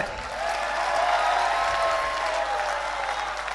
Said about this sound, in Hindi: एक बार ताली बजाओ सारे।